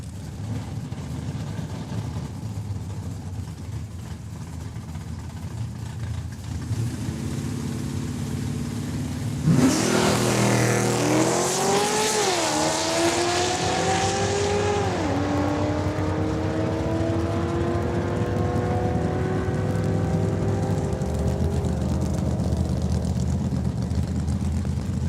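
A Plymouth Duster and a 2008 Corvette run a drag race at a raceway, first a low idle, then a sudden loud launch with engines revving up through rising gear sweeps before tapering off.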